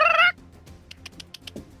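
A voice imitates the squawk of a bird-like creature, a loud, shrill burst at the start, then fading into a quiet stretch of soft rustling and faint clicks.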